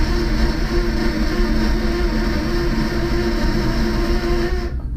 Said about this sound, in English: oh my god, that starter is so loud